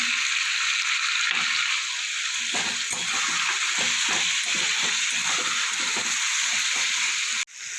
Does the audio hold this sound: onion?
yes